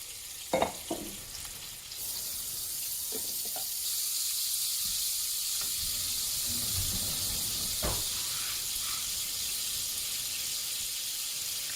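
Butter and olive oil sizzling in a skillet preheated to medium heat: a few clinks and taps at first, then a steady, close frying hiss that continues throughout with occasional soft knocks.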